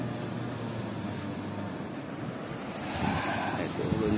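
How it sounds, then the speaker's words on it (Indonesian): Ocean waves wash onto a beach beside an outdoor cooking spot, making a continuous broad rushing roar with wind buffeting the microphone, swelling a little louder near the end. "Ini kita lagi di pinggir pantai."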